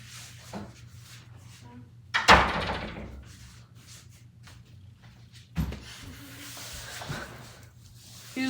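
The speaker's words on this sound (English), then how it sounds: "I forgot to close the door" A door closing with a solid wooden thud in a quiet room during a school field trip overnight stay, a second softer knock following a few seconds later.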